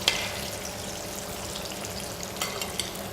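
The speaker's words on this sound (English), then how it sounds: "you're just frying it on the medium heat" Steady crackling sizzle of plantain frying in oil over medium heat, continuous and fairly close, with a few sharper pops near the end and no voices.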